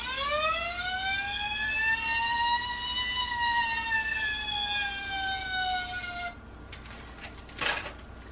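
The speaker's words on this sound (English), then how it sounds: "So I got him a fire truck, which makes the noise and lights up." A toy fire truck plays its electronic siren, a single rising and falling wail lasting several seconds, close and clear, then stops, followed by a couple of faint clicks and rustles.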